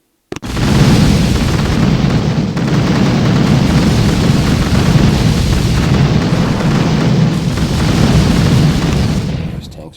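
Mine blasts rip through a Boom Beach battle as shock mines and hidden mines detonate, a dense, loud, continuous wall of booms and rumbling explosions with no clear gaps.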